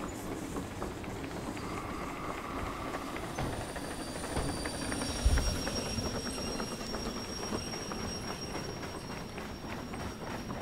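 A steam locomotive in the VR train game Derail Valley labors along the track, a steady rumbling rattle with rhythmic clatter and a brief heavy thump near the middle as it nearly jumps the rails.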